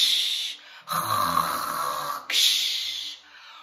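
During a children's storytime about a snoring hippo, voices imitate snoring: a few long, rasping snore breaths in and out, fairly close and steady, with brief pauses between.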